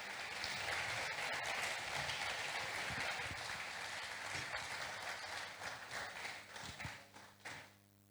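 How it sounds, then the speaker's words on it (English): Audience at a youth conference event claps in sustained, dense rhythmic applause that carries close and loud, then thins into scattered claps and fades out near the end. "Keep on clapping."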